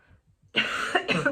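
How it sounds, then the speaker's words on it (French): A single close cough bursts out after a short quiet lead-in, followed quickly by a second rougher cough, loud and dry. "ça me fait tousser"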